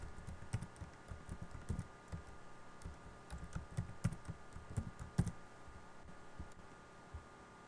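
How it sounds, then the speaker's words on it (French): A password being typed on a computer keyboard: a close, quiet run of uneven key clicks with short pauses, no voices. "Et puis ici je tape le nouveau mot de passe."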